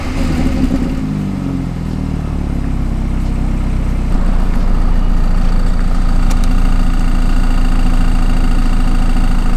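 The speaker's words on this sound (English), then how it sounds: "the engine, when it's idling, it sounds like a diesel engine" A car engine idles steadily with a low, rough, diesel-like rumble, growing slightly louder partway through and holding a constant drone.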